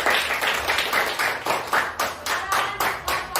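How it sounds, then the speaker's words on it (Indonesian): Students in a classroom clap together for a group that has just presented, brisk rhythmic bursts of hand claps repeating quickly and evenly, close and moderately loud. "tepuk tangan untuk kelompok 1"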